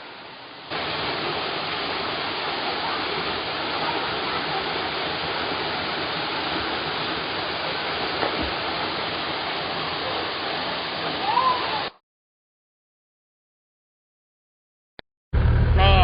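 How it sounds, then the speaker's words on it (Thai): A steady roar of the Long Ru waterfall in Thailand fills the air at close range, continuous and broad, then cuts off abruptly before briefly resuming at the end. "น้ำตกลงรูน้ำตกแสงจันทร์นะคะ"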